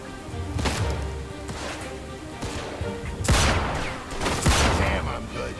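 Bursts of gunfire in a Mafia II shootout, a few scattered shots followed by heavier rattling volleys, close and loud over a busy background with some voice in the mix.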